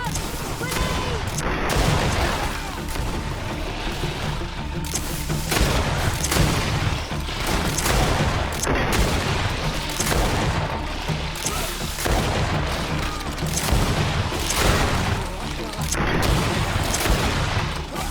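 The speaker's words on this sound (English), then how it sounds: "Watch out! Grenade!" A grenade goes off during a Greedfall battle, thudding amid repeated booms and gunfire-like bursts, with shouted voices and combat noise continuing throughout.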